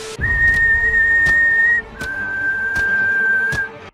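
A person whistles a sustained, steady tone close by, dropping slightly in pitch partway through, with faint rhythmic clicks underneath and no talking.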